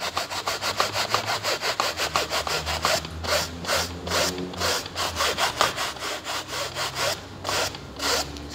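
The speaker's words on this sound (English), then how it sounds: "So I prefer to just use a stiff nylon brush, which I have it here. All right, just scrub and remove most of the abrasive out." A stiff nylon brush scrubs abrasive out of a car polishing pad in quick, rhythmic back-and-forth strokes, close and crisp, briefly pausing midway before resuming.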